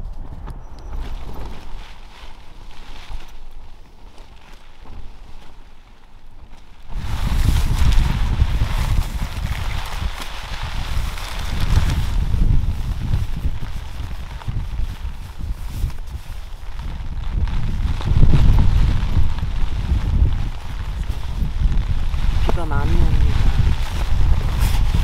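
Strong gusts roar and buffet across a 1,189-metre mountain top during a storm with heavy rain, starting softer and then swelling into a loud, continuous, rumbling blast that stays close and rough.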